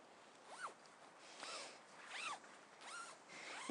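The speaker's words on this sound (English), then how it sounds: "The 2 doors just zip together." Four quick zipper pulls as the two doors of a BlackWolf Turbo Air Plus tent are joined, each a short rasping zip spaced about a second apart, close and fairly quiet with no talking.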